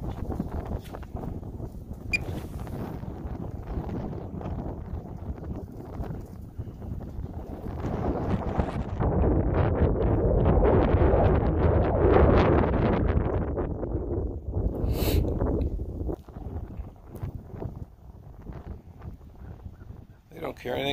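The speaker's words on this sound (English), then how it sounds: "It's windy." Wind buffets the microphone on a lakeside morning at Evergreen Lake, rising into a strong gust midway then easing, with someone talking intermittently underneath and faint geese somewhere nearby.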